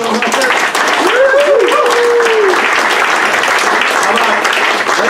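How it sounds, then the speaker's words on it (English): Loud, continuous audience applause at a summer graduation leadership panel, a thick wash of clapping with cheering voices and whoops rising through it. "Let's just give a round of applause for how awesome this is."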